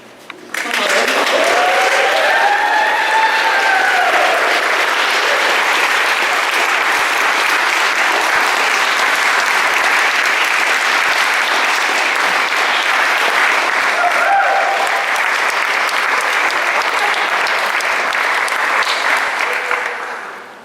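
Sustained, loud audience applause at an outdoor Hawaiian cultural gathering in Pa'auilo, Hawai'i, steady clapping for about twenty seconds with faint cheers near the start, fading only at the very end.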